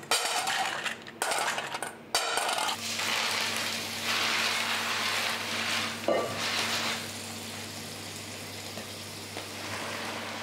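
Clams cook in a hot pan as it is deglazed: a sharp clatter and rattle, then a steady sizzle and hiss that continues, fairly quiet and close with a faint hum beneath.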